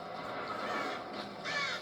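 In Tomb Raider Definitive Edition, a crow caws a few times against steady ambient game background, faint and somewhat distant, with no talking.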